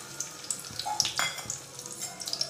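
Dry fish omelette batter poured into a hot pan, a steady crackling sizzle with small pops and scattered clinks, moderately close and without talk.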